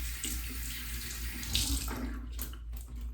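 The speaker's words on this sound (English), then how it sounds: "So I'm gonna take my brush, I'm gonna wet it." A hairbrush is wetted under a running tap, steady splashing water into a sink for about three seconds, close and continuous.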